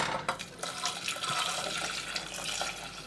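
Water splashes and trickles steadily as it is poured into a corned beef mustard sauce being whisked, a close, continuous liquid pour without talk.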